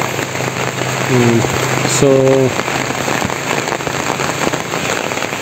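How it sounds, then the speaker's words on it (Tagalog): Heavy rain pours steadily onto surfaces beside tilapia ponds in the afternoon, a dense, constant hiss with a couple of brief tonal calls over it and a short spoken word. "Umuulan na naman po, lakas ng ulan,"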